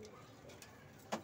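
Cooing of a male pigeon kept at a home loft in Guanabacoa, Cuba, a soft low murmur with one brief louder coo near the end, heard faintly over quiet background.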